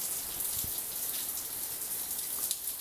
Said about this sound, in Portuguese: Olha que somzinho gostoso de chuva.